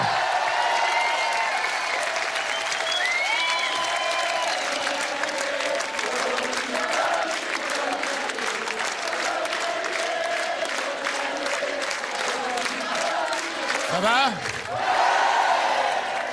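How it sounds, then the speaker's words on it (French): Television show audience applauding a gospel choir in Los Angeles, loud dense clapping with scattered whistles and whoops, a crowd roar running through it and voices rising near the end. "j'aimerais que vous applaudissiez, applaudissiez pardon, très fort, le groupe de la chorale de gospel qui nous a accompagnés ce soir."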